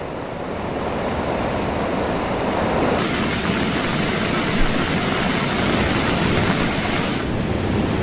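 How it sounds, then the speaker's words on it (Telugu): The flooded Beas river in Himachal Pradesh surges with a loud, continuous roar of rushing water that holds steady and close throughout, with no voices. "ఆ వంతెన ఎక్కడ దాకుందో అక్కడి దాకా ప్రవహిస్తోంది బియాస్ నది"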